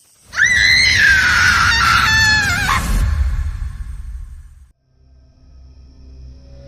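A woman screams in fright, a loud sustained shriek of about three seconds with wavering pitch, followed by a fading low rumble and quiet ambience.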